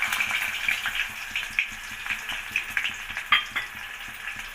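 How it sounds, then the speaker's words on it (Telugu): Onions added to hot oil with mustard seeds for a stuffed eggplant curry fry with a busy, close crackling sizzle and scattered sharp pops, steady and moderately loud without any voices. "ఇప్పుడు దీంట్లో ఆవాలు వేసుకున్నానండి, ఇప్పుడు ఎర్రగడ్డలు వేసుకుంటున్నానండి"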